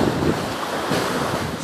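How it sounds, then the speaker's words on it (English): Night surf of the Gulf of Mexico at Naples Beach, a steady wash of breaking waves with breezy wind buffeting the microphone, loud and continuous. "listen to the waves of the Gulf of Mexico"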